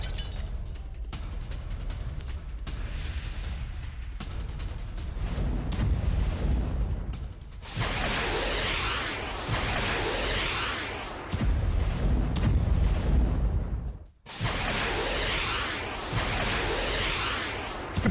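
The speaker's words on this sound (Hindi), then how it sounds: "रूस के उरागान में एमएलआरएस से बड़ा हमला हुआ, यह देखिए जरा।" Russian Uragan multiple rocket launcher firing, a long run of heavy booming blasts and rushing whooshes that overlap into a loud, continuous roar with one brief dip near the end.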